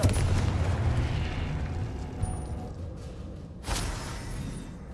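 A video game Confringo spell explosion booms loudly at the start and rumbles on through a dense, noisy mix, with a second sharp blast near the end.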